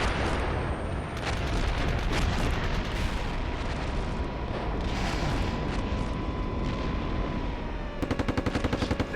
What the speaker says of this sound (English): We're taking fire here. Very close.